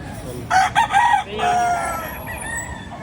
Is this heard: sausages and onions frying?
no